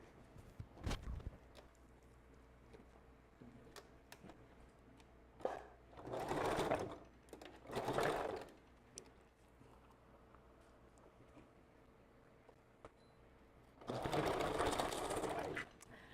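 A sewing machine runs zigzag stitches on a custom glueless wig in three short, fairly quiet bursts of quick needle chatter, separated by stretches of near silence with faint handling taps.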